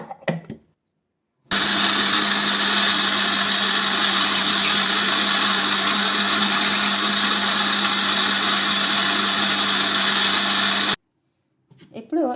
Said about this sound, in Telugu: మిక్సీ అయితే పట్టేసుకుందాం